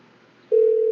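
A phone dialer used for cold calling sounds a steady tone that starts about halfway through, loud and close after a faint quiet start.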